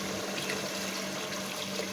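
Water pours steadily into fried masala in a cooking pot for a biryani, a constant close splashing wash with no talk.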